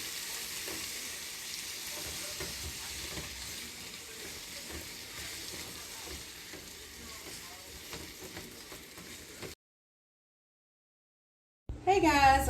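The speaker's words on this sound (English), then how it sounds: "Oh yeah, you hear that good sizzle" Carrots sizzle as a brown butter glaze is spooned over them in a hot pan, a steady crackling fry for about nine seconds, then silence before a burst of louder sound at the end.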